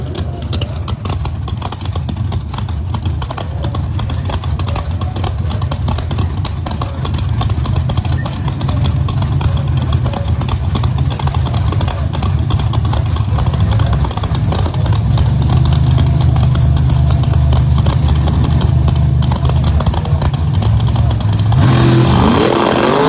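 A Pro Mod drag racing car at a drag strip during testing, its engine rumbling loud and steady from the lane throughout, with a rising, stronger low roar building near the end as it revs.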